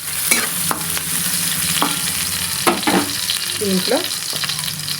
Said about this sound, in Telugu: ఇది ఫ్రై కావాలి, గోల్డెన్ ఫ్రై వేస్తాను.